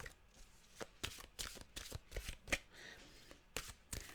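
Mantra cards being shuffled by hand, a quiet series of sharp riffling bursts at irregular intervals, close and alone with no talk.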